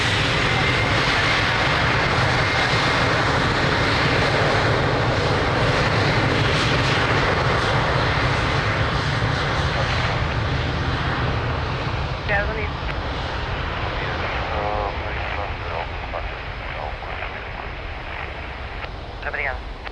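An airplane takes off from runway 02 at Lisbon Airport with a loud, sustained roar of jet engines that slowly fades, while air traffic radio talk sounds over it.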